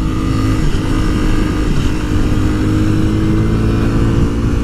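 A Yamaha WR250R motorcycle accelerates up a smooth mountain road on Pikes Peak, its engine a loud, close, steady drone with wind rush over it.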